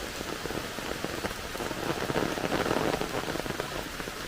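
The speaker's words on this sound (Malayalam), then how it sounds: "തീർന്നു ഇത്രേ ഉള്ളൂ മഴ" Steady rain patters densely on a surface, a continuous close hiss of drops without any voices.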